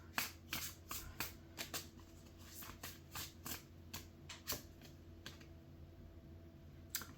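Tarot cards are shuffled and drawn close to the microphone, giving soft rapid riffling and flicking bursts that repeat at an uneven rhythm, quiet and without talking.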